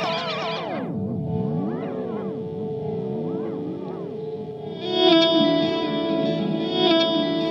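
Fully wet delay and reverb on an ambient effects unit: swooping, whale-like pitched tones repeat and smear into long echoing tails, then a denser, brighter sustained chord swells in partway through.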